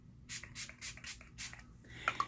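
Too Faced Hangover 3-in-1 setting spray mists out in about five short hissing bursts at close range, followed by faint rubbing and handling sounds.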